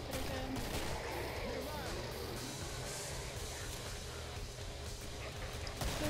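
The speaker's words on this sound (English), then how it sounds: "I'm gonna pull out my shotgun again" Shotgun fire in the Killing Floor video game, a dense run of loud, overlapping gunshot blasts over a steady roar of game noise that never lets up.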